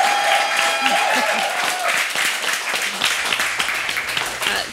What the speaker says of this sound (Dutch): Ik wil eerst een applaus voor Kerke Buske.